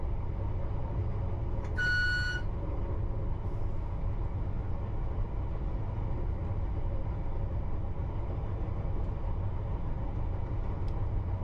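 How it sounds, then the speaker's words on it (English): A short, bright London Underground Piccadilly line train horn toot sounds once near the start, then a steady low rumble of the moving train carries on alone for the rest. "we can give them a bit of a toot"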